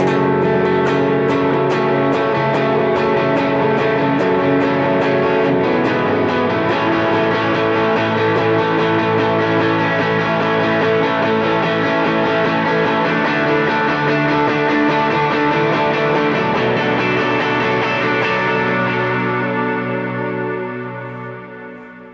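An electric guitar part played dirty with overdrive and effects, sustained and dense with echo and shimmer, loud throughout before fading at the end.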